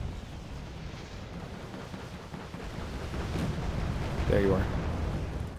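Incoming fire and explosions rumble through a Wargame Red Dragon battle, a steady low roar of distant shelling that swells louder toward the end, with someone speaking briefly over it.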